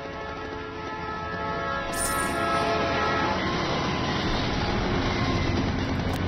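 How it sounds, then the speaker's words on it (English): A train rolls past with a steady, broad rumble that swells louder partway through and stays loud and close to the end, with no talking. "And I think I hear that train coming."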